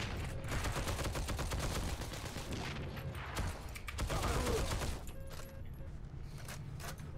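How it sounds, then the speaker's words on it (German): Hip-fire gunfire in the Heroes & Generals shooter game, a steady run of rapid shots with short pauses, moderately loud and continuous through most of the stretch. "Aus der Hüfte schießen lässt sich auch noch ganz gut"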